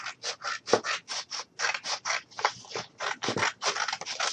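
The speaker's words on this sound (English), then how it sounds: "So I'm just going to go ahead and cut here." Scissors snip through a strip of material for a mini truck craft, a close, rapid series of crisp cuts in quick bursts with brief pauses between them.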